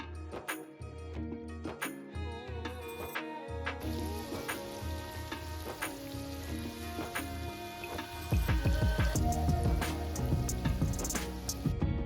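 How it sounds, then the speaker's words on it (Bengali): Palm fruit fritters (taler bora) frying in hot oil over a low gas flame, a steady dense sizzle with crackling pops that swells louder as more batter drops in near the end, no voices. "এবার আবারও বড়ার আকারে সমস্ত বড়াগুলো দিয়ে দেবো গরম তেলের মধ্যে"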